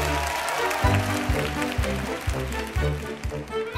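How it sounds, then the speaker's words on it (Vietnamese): A studio audience on a stage dating show cheers and applauds, a loud crowd noise under a pulsing backing music beat that runs throughout. "Gì mà reo hò dữ vậy?"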